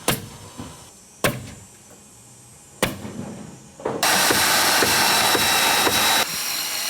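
A drill bores holes through roof framing for hurricane ties on a New Orleans home build. Several sharp knocks come first, then a loud sustained drilling whir runs for a couple of seconds before easing off.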